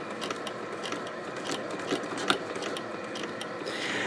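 A sewing machine stitching industrial rope for a coiled candy bowl: a close, steady mechanical whir with a faint rhythmic ticking, sewing at an even, moderate pace and running alone without talk.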